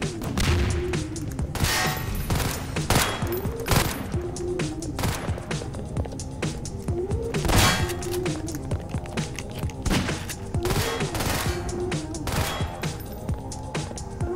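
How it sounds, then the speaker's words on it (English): Rapid gunfire in the Garry's Mod Prop Hunt game mode, dense bursts of loud, close shots with irregular cracks and thuds, along with recurring tonal game sounds running beneath it. "someone shot something in here"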